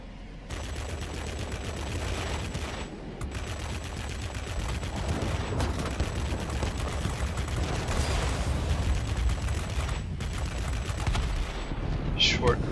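Messerschmitt Me P 1101 jet fighter guns firing in World of Warplanes, a dense continuous rattle of gunfire layered over a steady engine roar, loud and sustained with brief lulls.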